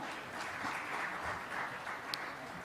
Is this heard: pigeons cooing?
no